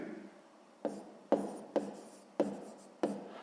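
A pen scratches on paper during a sixth-grade maths exercise, five quiet, distinct strokes spaced about half a second apart, each fading quickly.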